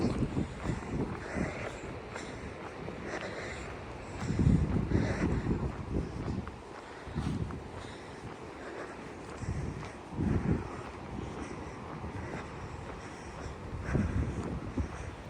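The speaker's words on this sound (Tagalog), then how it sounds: "Lakas ng hangin." Strong cold wind buffets the microphone on a rocky seashore at Kita Nagano Coast, Japan, surging in loud gusts around 4–5, 10 and 14 seconds over a constant low roar.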